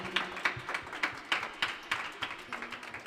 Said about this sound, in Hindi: जोर से तालियां बजाओ प्रभु यीशु की हुजूरी के लिए